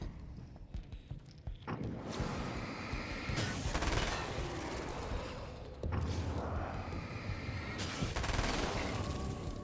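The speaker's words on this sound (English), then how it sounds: "I love the SMG." Submachine gun fire in Alan Wake's American Nightmare, in loud, dense sustained bursts that stop briefly and then resume, with rattling gunfire filling most of the stretch.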